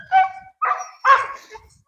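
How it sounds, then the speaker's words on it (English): A two-year-old wirehair dog barks and yips nearby, three short pitched bursts in quick succession, loud and close with no talk over them. "She's like, what are you barking about?"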